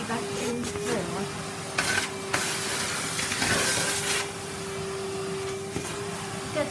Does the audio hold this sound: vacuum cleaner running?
yes